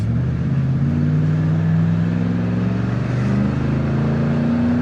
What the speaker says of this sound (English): Just that exhaust, it has that nice little thump to it, don't it?